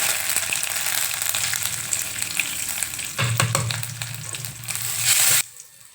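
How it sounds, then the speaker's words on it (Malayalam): Mustard seeds and curry leaves sizzle in hot oil as a tempering for a Kerala-style curry. The steady loud crackle thickens into a heavier burst of frying partway through, then cuts off abruptly near the end. "കടുക് പൊട്ടിയതിന് ശേഷം കരിയാപ്പിൻ്റെ ഇടുക"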